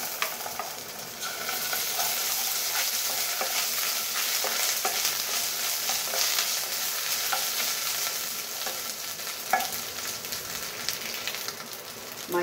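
Ginger-garlic paste fries in a pan with cinnamon, cardamom and clove for a vegetable kadai masala: a continuous close sizzle with occasional scraping stirs and no talking.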